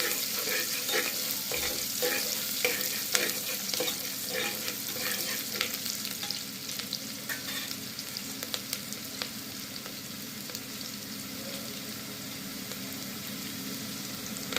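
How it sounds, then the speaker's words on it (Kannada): Finely chopped onions frying in hot oil for a country-style mutton sambar, a steady close sizzle with scattered pops and occasional stirring scrapes, continuous and fairly loud throughout. "ಸಣ್ಣ ಕಟ್ ಮಾಡ್ಕೊಂಡಿದ್ದಂತಹ ಈರುಳ್ಳಿನ ಹಾಕೋತಾ ಇದ್ದೀವಿ. ಫ್ರೈ ಮಾಡ್ಕೊಳ್ಳಿ."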